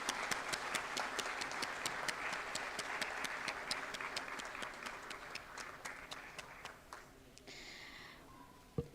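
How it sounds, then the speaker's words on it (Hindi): An audience at a government ceremony for a public works department's 168th annual day applauds to welcome the chief guest, a crowd of steady claps that gradually thins and fades out toward the end. "तालियों के साथ स्वागत कीजिए आज के मुख्य अतिथि माननीय केंद्रीय मंत्री श्री हरदीप सिंह पुरी जी का।"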